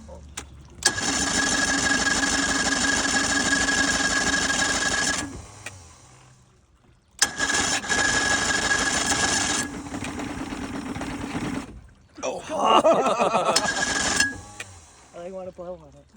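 A vintage barn-find boat engine cranks over on its first start attempt in 20 years, in three long mechanical churning bursts separated by pauses, loud and close, with the last burst rougher and more uneven.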